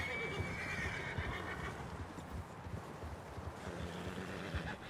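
A horse neighs and whinnies with clip-clopping hooves in Red Dead Redemption 2, steady and fairly close over a windy outdoor backdrop, with no talking.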